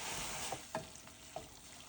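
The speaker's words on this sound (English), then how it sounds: "stir and mix." Soy sauce-based sauce for Chinese zhajiangmian sizzles quietly in a pot while a spoon stirs, with three soft knocks spaced across two seconds, faint and close.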